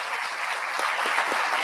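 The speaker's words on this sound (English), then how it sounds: "Let's give them a round of applause." Audience applause for top ten scholars at a Boise State alumni awards ceremony, a steady, even wash of many hands clapping in a large room.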